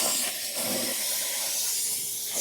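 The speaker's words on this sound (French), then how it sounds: "C'est l'une des grosses forces de la vapeur, c'est le nettoyage en profondeur et dans des détails de vos habitacles" A steam cleaner blasts inside a car's cabin, working over seats and the gaps between them, giving a loud, continuous broadband hiss that holds steady throughout with no voices.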